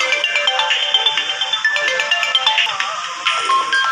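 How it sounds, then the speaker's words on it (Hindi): A mobile phone's ringtone plays loudly and continuously for an incoming call, a bright repeating electronic melody close by with no talking over it. "माना मुझे फ़ोन कर रहा है अपने फ़ोन से"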